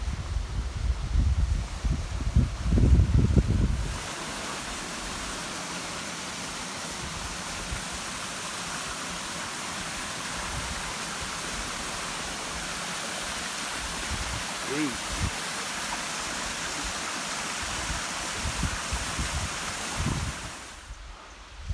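A waterfall on the Galena to Little San Gorgonio traverse gives a steady, broad roar that stays loud throughout, preceded by a few seconds of louder rustling and wind buffeting on the microphone.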